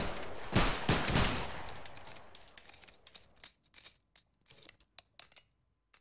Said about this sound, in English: Make ready, take aim, fire.